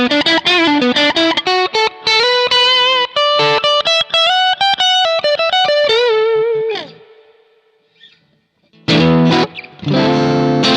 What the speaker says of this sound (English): So a little bit of crunch, nice.